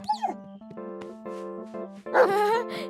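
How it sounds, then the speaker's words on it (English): A cartoon dog from a children's animated series gives a string of tonal, voiced yaps and barks. They rise and fall in pitch, come close and clear with short gaps, and end in a louder, longer bark, with no talking over them. "Gooseberry's not a mean dog."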